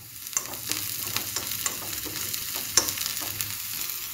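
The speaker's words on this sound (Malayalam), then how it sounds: "വീണ്ടും വഴറ്റാം." Chopped green chilli and coriander leaves sauté in a pan for an egg bajji filling, with a steady close sizzle and repeated rhythmic scrapes of a spatula stirring.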